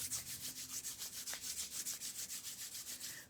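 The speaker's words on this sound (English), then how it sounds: "Rub your hands together." Palms rubbed briskly together in a steady back-and-forth rhythm, about a dozen quick swishing strokes, close and fairly soft, with no talking.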